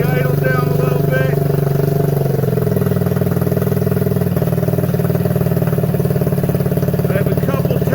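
Honda Z50R minibike engine idling with a steady, throbbing mid-pitched putter, close and loud, its pitch dropping slightly partway through as the idle settles lower.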